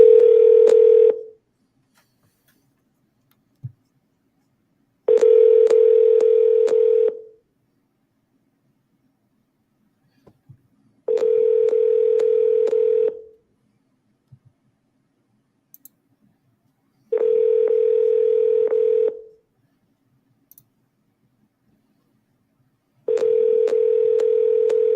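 Phone dialer producing a steady dial tone in five evenly spaced bursts of about two seconds each, loud and clean, separated by near-silence with a few faint clicks.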